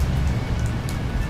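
Stormy rain pours down steadily in a dense, rushing hiss with a heavy low rumble beneath it, loud and constant over a short stretch with no talking.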